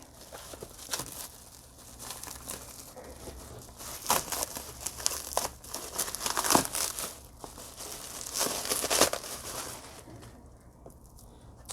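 Packaging for a new YOCO GO being opened at close range, with continuous crinkling, tearing and rustling of wrapping that comes in uneven bursts, louder in the middle, with no talking.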